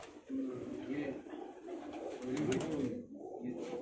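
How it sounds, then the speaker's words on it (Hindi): A big blank check pigeon coos in low, rolling phrases, close by and moderately loud, with faint background rustle and no talking. "ये कबूतर ब्लैंक चेक बड़ा कबूतर है"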